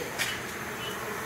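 A cluster of bees gathered behind a hive structure gives a faint, steady buzzing hum, with one slightly louder pass near the start.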